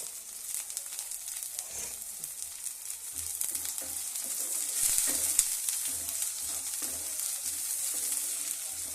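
Carrots and beans cooking with bay leaf, cloves and cardamom for masala rice, a steady close sizzle and fry in the pan with occasional stirring scrapes, no talk.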